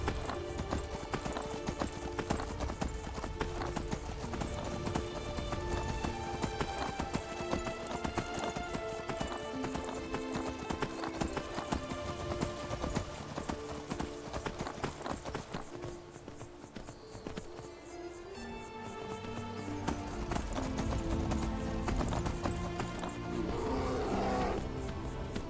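Horse hooves clip-clop with occasional whinnies in the Skyrim video game, a steady walking rhythm of hoofbeats that stays up close under dense, continuous game music and ambience.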